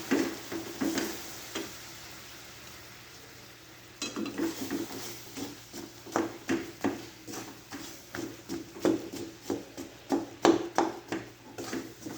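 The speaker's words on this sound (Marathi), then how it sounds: "असं सतत हलवायचे म्हणजे विरगळतो गुळ" A spoon scrapes and clinks steadily against a pan of jaggery melting with a little water, in a quick repeating rhythm, close up, with no talking.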